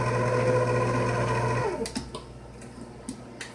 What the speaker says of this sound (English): So, let's turn our mixer on.